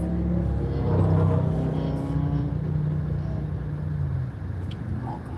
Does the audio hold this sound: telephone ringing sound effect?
no